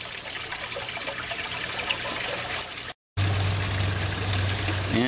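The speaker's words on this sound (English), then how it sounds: "the water just pouring right in a little bit" Water pours steadily into an aquaponics grow bed filled with lava rock, a continuous close trickle and splash that cuts out briefly, then resumes with a low hum underneath.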